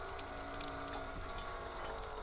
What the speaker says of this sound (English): So voila, running water.